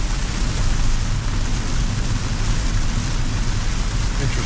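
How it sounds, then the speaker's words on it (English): Heavy rain drums steadily on a moving Tesla driving itself, a dense, loud, continuous hiss with low road rumble underneath and no voices. "it's raining pretty hard"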